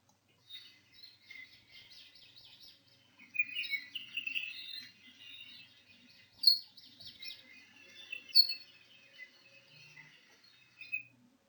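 A black-masked, nectar-feeding Hawaiian bird calls in thin, high chirps and trilling bursts, repeated at uneven intervals, fairly faint and alone with no talking.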